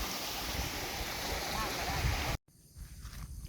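A forest stream tumbles over a small waterfall, pouring out a loud, steady rush of water up close. It cuts off abruptly partway through, leaving quieter outdoor sound with some voices.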